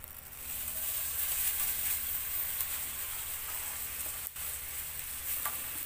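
Garlic fries in hot oil for Chinese pork adobo, giving a steady, soft sizzling hiss with faint crackles, heard close and alone without talk.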